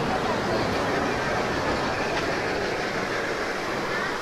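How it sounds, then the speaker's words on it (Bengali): An amusement park toy train at Jahanabad Park, Khulna, rumbles steadily along with a continuous clattering roll, close by and fairly loud, with faint voices in the background. "এই পার্কের ভিতরে কিন্তু একটি আকর্ষণীয় ট্রেন"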